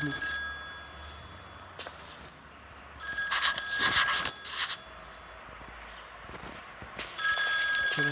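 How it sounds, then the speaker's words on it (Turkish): A telephone rings in the Mental Hospital Alice Madness video game, with bright repeating bursts of ringing standing over a quiet game ambience, plus a few soft steps. "Telefon çalar."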